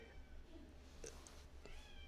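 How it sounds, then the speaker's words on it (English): A house cat meows repeatedly at a door, wanting to be let outside, the calls short and faint over a steady low room hum. "my cat is having a fit where he would like to be let outside, so he is just meowing constantly at the door"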